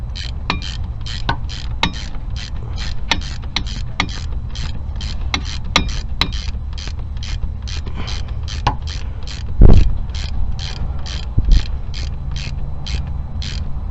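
Repeated ratcheting clicks from tightening a bolt into a brake caliper on a WJ Jeep Grand Cherokee, a steady rapid run of mechanical clicks over a low background hum, with a couple of louder knocks near the end.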